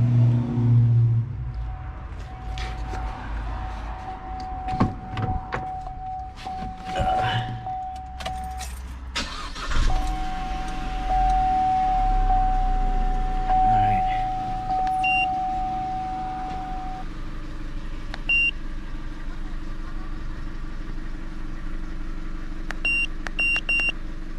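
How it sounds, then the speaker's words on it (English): A car engine is started, revs briefly with a rising whine, then settles into a steady idle, with a few electronic beeps near the end. "now we're gonna turn the car on and check our fuel trim"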